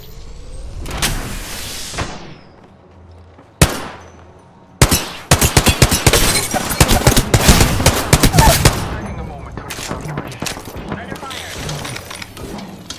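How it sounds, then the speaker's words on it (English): Rapid bursts of automatic gunfire and single shots from a video game firefight, loud and close, with sharp cracks after a quiet start and a busy stretch of firing, under in-game voice callouts. "I'm taking fire"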